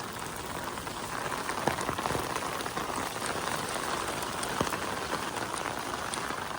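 Steady rain in Seogwipo, Jeju, patters on a surface nearby, a dense continuous hiss with occasional louder drops.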